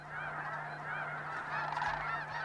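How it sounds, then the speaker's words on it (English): Geese honking steadily at a marsh roost where cranes also gather, a dense chorus of overlapping calls from many birds, continuous and fairly near, with a low steady hum beneath. "Each night the cranes and the geese roost in the protection of the marshes."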